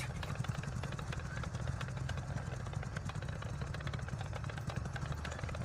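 A motorbike engine idles in a steady, faint, continuous rumble with a busy mechanical chatter and no change in pace.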